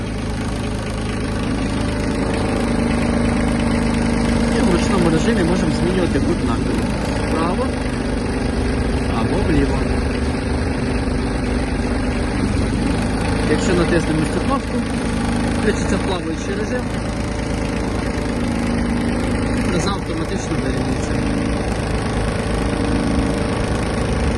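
A Kubota GB-15 Japanese mini tractor engine idles while warming up, a steady mid-low engine rumble with vibration throughout, with occasional clanks and faint tonal whines over it.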